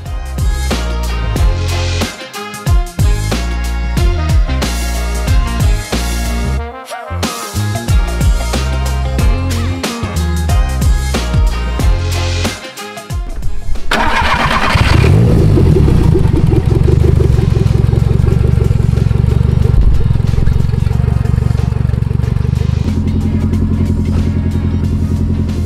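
A VW Saveiro pickup with eight injectors, a FuelTech 300 and a straight exhaust revs loudly in stabs with gaps, then settles into a sustained roaring high rev and a steady idle-like drone near the end.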